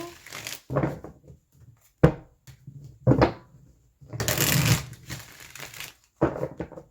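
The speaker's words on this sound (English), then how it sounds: "See, I can shuffle like that. Overhand shuffle" Tarot cards being shuffled by hand in several quick riffling bursts, close and fairly quiet, with short pauses between them.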